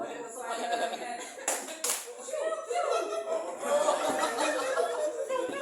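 A group of people does a rhythmic Tepuk Spiderman clapping routine at a teaching session, sharp claps mixed with chuckles and voices talking throughout.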